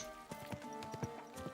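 Horse hooves clip-clop at a steady walking pace in the video game Kingdom Come: Deliverance II. The hoofbeats are fairly faint and sit over a low background hum, with no speech.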